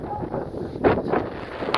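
Gusty wind buffets an outdoor spot where a walk-behind tractor is being refueled, rising into a few rough, rumbling whooshes over a low steady rush, close and fairly loud against the microphone.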